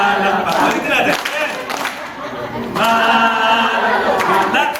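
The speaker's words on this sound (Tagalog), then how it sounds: "Magsaya, pumalakpak." A group at a storytelling workshop ice breaker claps their hands in rhythm while voices chant and sing along, claps and talk mixed together at close range.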